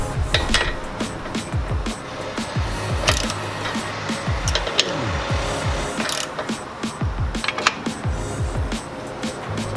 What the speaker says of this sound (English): So now I'm going to put a wrench on the back.